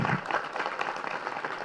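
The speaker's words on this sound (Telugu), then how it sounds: "ఒకసారి గట్టి వారి క్లాప్స్" Audience applause at a PSSM pyramid meditation gathering in Hyderabad: a dense, steady burst of many hands clapping together, lasting under two seconds, moderately loud, with no voices over it.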